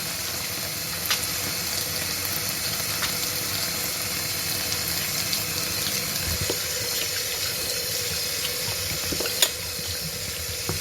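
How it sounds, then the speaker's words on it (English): Hands being washed under a running tap, a steady wash of flowing water with occasional splashes and small knocks, no voices. "I like to start off with washing my hands really good."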